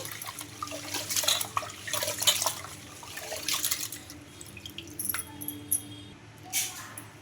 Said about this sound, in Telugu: బియ్యము అటుకులు బాగా వాటర్ వేసేసుకొని బాగా ఒక మూడు సార్లు వాష్ చేసుకుందామండి